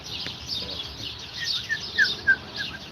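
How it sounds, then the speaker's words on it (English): Birds chirp in the background outdoors during lawn mower repair, a few short bright tweets near the end over a steady airy hiss of ambience. "I bet all you hear in the background is birds chirping."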